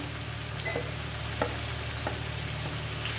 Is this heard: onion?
yes